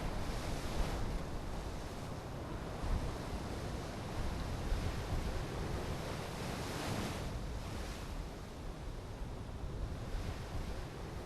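Turbulent sea waves churn and crash at a Brazilian reef where the outer Atlantic meets calmer water, a steady rough wash with periodic swells, along with wind buffeting the microphone.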